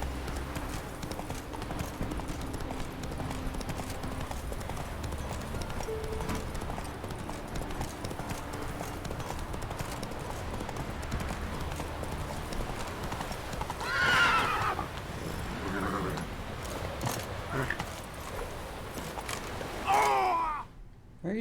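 Horse hooves clip-clop steadily through a Witcher 3 game scene, with a close, sharp neigh around the midpoint and another whinny near the end over a constant background bed.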